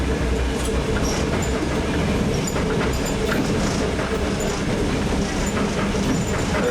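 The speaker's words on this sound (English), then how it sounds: "You had the traction motors grind out, and you had the knocking of the air compressor" An electric commuter train rumbles steadily along the rails with a dense low roar, faint metallic clatter and squeal over the top, continuous and close throughout.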